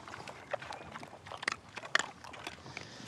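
Pigs crunch and chew acorns close by, with irregular sharp cracks and bites over a soft background of rustling and snuffling.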